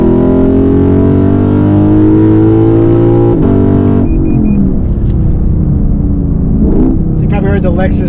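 Lexus LC 500 with a very loud aftermarket exhaust revving in Sport Plus mode, a deep, steady, close roar that drops to a rumbling idle partway through, and a voice speaking briefly near the end.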